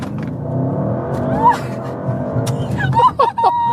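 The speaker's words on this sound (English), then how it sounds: "Launch control." An Audi RS7 Performance launches hard under launch control, its engine note rising steadily close by, with short excited voices and whoops breaking in near the end.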